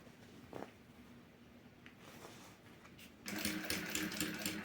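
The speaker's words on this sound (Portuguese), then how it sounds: "Então, vou costurar aqui e mostro pra vocês já, tá?" A sewing machine stitching the bottom seam of a boxy synthetic-fabric toiletry bag with bias binding, quiet at first, then running steadily and louder for the last second or so.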